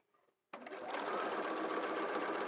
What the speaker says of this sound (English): So now all I do as I sew is keep my eye on that foot and just sew along.